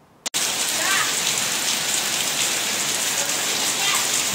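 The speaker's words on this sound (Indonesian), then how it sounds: "Gede hujannya." Heavy rain pours down at Studio Alam Gamplong in Yogyakarta. After a sharp click at the start, a dense, loud, steady hiss of falling water fills everything with no letup.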